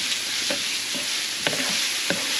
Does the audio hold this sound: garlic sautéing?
yes